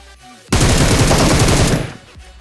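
Gunfire in a shooter video game, one loud rapid burst of automatic fire lasting about a second and a half, close and dense, with nothing else heard.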